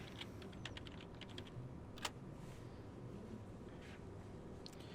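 Long text typed on a computer keyboard in Microsoft Word, a quiet, rapid run of closely spaced key clicks with an occasional heavier keystroke, steady and close with no voices.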